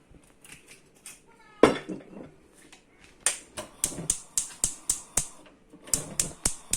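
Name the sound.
chopping mushrooms with a knife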